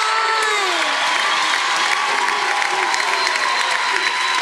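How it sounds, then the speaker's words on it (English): Audience applause for a speaker at a talk on dating and sex, a steady even wash of clapping with a murmuring crowd and a few cheers, loud and sustained throughout without a break. "Come on, give him a round of applause."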